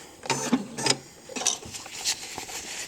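A sewing machine stitches two layers of PUL fabric for a diaper. It runs in short, separate bursts of close mechanical rattling with brief gaps between them.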